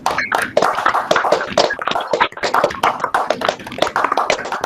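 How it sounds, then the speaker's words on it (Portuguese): Webinar participants applauding with their microphones open, a dense patter of clapping from many people at close range, steady for several seconds. "retribuíssemos com uma grande salva de palmas pela oportunidade que você nos proporcionou"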